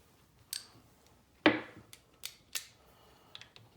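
A 10 mm wrench works on the kickstand bolt of a KLX 110 dirt bike, making a handful of sharp metallic clicks and one louder scraping snap, spaced irregularly over a quiet background.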